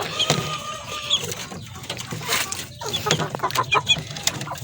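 Chickens in a backyard poultry coop cluck repeatedly at close range, with irregular bursts of clucking and soft calls over a steady farmyard background.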